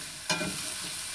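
Onions and potatoes frying in a pan for a potato and egg curry, with a sharp stirring scrape followed by a steady close sizzle.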